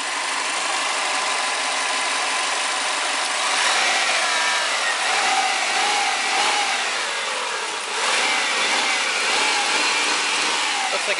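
A 1998 Subaru Forester engine runs steadily and loudly up close, swelling with a couple of revs midway before settling back to a rough idle, with no voices.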